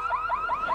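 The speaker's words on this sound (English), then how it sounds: "Don't cars like this usually have an alarm system?" A car alarm blares alone, its warbling electronic siren sweeping up and down in a steady repeating cycle, loud and close.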